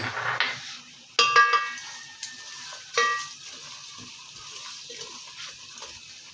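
A wooden spoon stirs semolina halwa in a pan, making a scraping, sizzling texture with a few sharper clinks and knocks, loud and close, with no talk.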